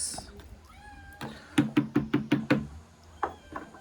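A house cat gives a short, rising meow near its food of chicken meat and rice. A quick run of six sharp knocks follows, then a fainter thump, all fairly quiet and close.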